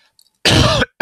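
A single harsh cough rings out close by after a moment of near silence, followed by the start of another.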